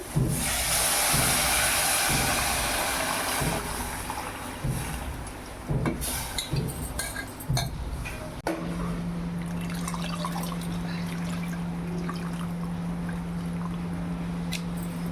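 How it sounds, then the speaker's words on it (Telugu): Tomato rasam (charu) poured out in a home kitchen, a liquid splash and trickle running for several seconds up close, followed by a quieter steady low hum. "ఇదిగోండి చారు పోస్తున్నా."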